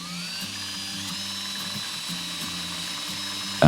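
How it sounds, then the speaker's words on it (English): Self-tapping screw driven by a power driver into a trailer chassis to mount a breakaway battery box, a steady whirring ratchet with rhythmic clicking pulses, close up, ending in a sudden louder burst. "I am going to put in the other self-tapping screw and finish mounting the Breakaway battery box to the chassis"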